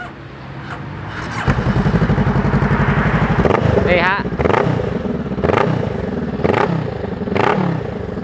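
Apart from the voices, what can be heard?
motorcycle aftermarket exhaust revving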